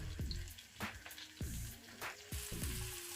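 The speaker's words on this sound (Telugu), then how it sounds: "ఒక 2-3 నిమిషాలు మీడియం ఫ్లేమ్ మీద పెట్టుకొని ఫ్రై చేసుకోవాలి" Cauliflower florets fry in a pan over a medium flame, a steady sizzle broken by sharp clatters and scrapes of stirring, close and fairly quiet.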